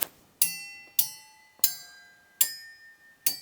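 Grammy award trophies struck like a receptionist bell in a home studio, five sharp metallic strikes at uneven intervals, each ringing on and fading, with slightly different pitches and no talking.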